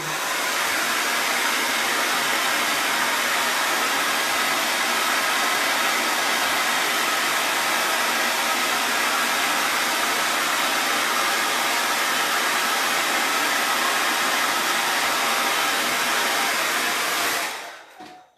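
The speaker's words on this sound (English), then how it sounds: "I'm just using the hairdryer just to dry my piece a bit." A hair dryer blows steadily and loudly for a long stretch, a constant rushing whir that cuts off abruptly at the end.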